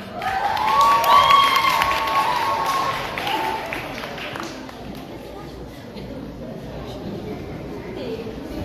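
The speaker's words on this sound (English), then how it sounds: "please give a round of applause to our Miss First Runner-Up 2018, Aisha Janelle Cunanan" Audience applause and crowd noise at a Miss Teen Philippines pageant, greeting the announced first runner-up; a burst of clapping and cheering swells in the first few seconds with a shrill voice, then thins to a lower, steady murmur.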